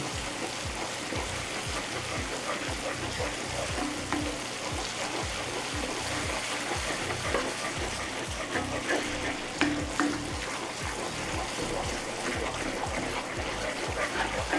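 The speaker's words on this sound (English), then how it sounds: "You want your butter and your sugar to be completely combined. Just keep stirring." Butter and sugar caramel being stirred in a pan, a long steady sizzle with repeated rhythmic scraping of the spoon through the thickening mixture, close up with no voices.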